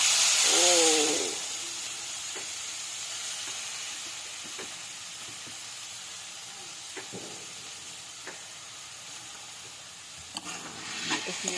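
Squid hits a hot pan for Filipino adobong pusit with a loud sizzling burst, then settles into a steady frying hiss broken by occasional soft stirring clicks.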